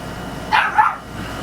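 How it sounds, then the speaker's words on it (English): Dogs bark in the background at a home, two quick, sharp barks in close succession over a faint murmur of room noise. "Sorry about the dogs and everybody yelling and stuff back there in the background."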